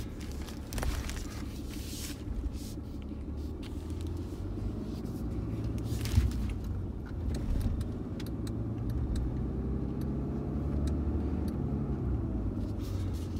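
A Ram 2500 pickup with a Cummins engine drives along, giving a steady low engine rumble and road drone throughout, with light cabin rattles and clicks above it and no talking.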